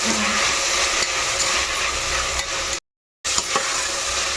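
A spoonful of ginger paste frying in a pan for a vegetable keema curry, giving a steady, close sizzling hiss with faint stirring scrapes and a brief gap in the sound.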